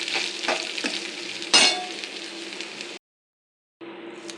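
Squeezed jackfruit mash stir-fried in a spice tempering: a loud, close frying hiss with scraping stirs and one sharp burst of sizzle, broken by a brief silent cut before the sizzling resumes.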